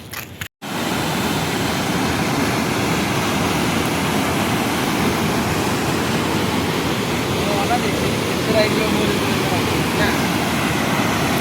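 Heavy water pouring out through the open gates of Hadagarh Dam, a loud, steady broadband roar that holds unbroken after a brief dropout at the start.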